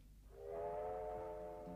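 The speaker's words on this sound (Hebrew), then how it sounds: "רכבת." A train whistle sounds from a station at midnight in fog, a single sustained steady tone rising in after a quiet start and holding to the end, moderately distant and alone without talk.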